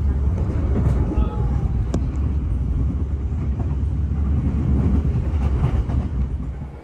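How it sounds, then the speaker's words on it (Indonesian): The Ranggajati passenger train rumbles along the rails in Indonesia, a steady low roar with faint clicks and rattles heard from on board, continuous and fairly loud throughout. "Kereta api Ranggajati telah tiba di stasiun Sidoarjo."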